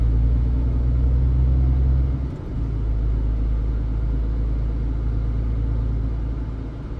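Road traffic of cars in Poland, a heavy low engine rumble from a nearby vehicle that shifts and drops partway through, over a steady background of passing traffic.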